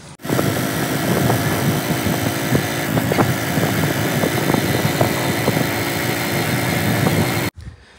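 A motorbike engine runs steadily and loudly at close range, a constant rough drone with small irregular pops, starting abruptly and cutting off sharply after about seven seconds.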